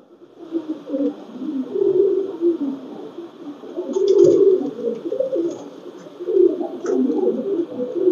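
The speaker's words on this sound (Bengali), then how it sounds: "তার নর কবুতরটা দেখুন" A male Pakistani Teddy pigeon coos close by in repeated low, rolling bursts with short pauses between them.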